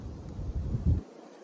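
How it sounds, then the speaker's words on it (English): Strong outdoor wind buffets the microphone in low, rumbling gusts for about a second before cutting off abruptly into near silence. "It's so windy."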